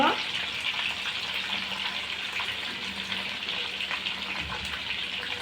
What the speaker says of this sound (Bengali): আমি এখন মাছের তেলের মধ্যেই আলুগুলা দিয়ে দেবো আস্তে আস্তে ভাজার জন্য